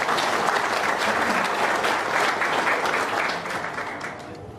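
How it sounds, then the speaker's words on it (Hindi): Sustained, loud applause from a crowd at a meeting in Goa, a dense wash of clapping that holds steady and eases slightly toward the end. "उनके लिए तालियां लगा बजाओ।"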